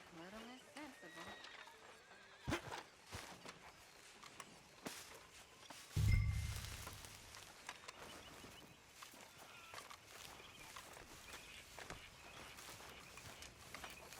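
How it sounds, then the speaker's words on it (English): Horses in the video game Red Dead Redemption 2 neigh and whinny, one loud close whinny standing out midway, with hoof clip-clops, scattered footsteps and ambient farm sounds around it. "Those horses are hungry."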